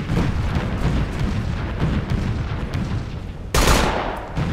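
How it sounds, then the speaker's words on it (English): Artillery fire in the video game Operation Flashpoint: Dragon Rising: a steady, heavy rumble of distant barrages, broken near the end by one sharp, louder blast, with no talking. "there's some artillery out there"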